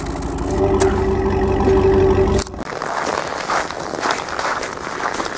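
A running vehicle engine idles steadily with its exhaust used to warm pizza rolls, a mid-pitched hum that cuts out abruptly partway through, leaving a softer, noisier background.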